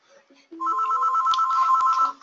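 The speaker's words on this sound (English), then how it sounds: "And now they're calling me through the phone here" An incoming-call phone ringtone plays a bright, rapidly pulsing melodic tone, loud and close, lasting about a second and a half after a few softer lead-in notes, with no talking over it.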